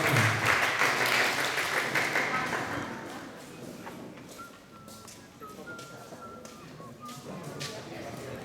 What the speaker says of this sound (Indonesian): Tepuk tangan buat grup Panglima.